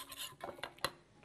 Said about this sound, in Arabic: هنجيب بس المضرب نستخدمه كده، ونقلب